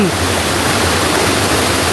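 Jim Yai waterfall near Khao Phluang village pours in a dense, continuous roar of falling water, loud and close, unbroken for the whole stretch.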